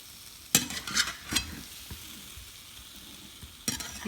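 Stuffed okra cooks in a pan and is turned over, giving a quiet background sizzle with a few sharp utensil scrapes and clicks early on and one more near the end.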